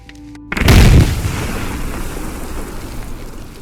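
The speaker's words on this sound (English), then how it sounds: "We can now place C4 on wrecks and destroy them." A C4 charge detonates on a vehicle wreck in the video game Squad: one heavy, deep boom about half a second in, then a long rumbling decay that carries on loudly to the end.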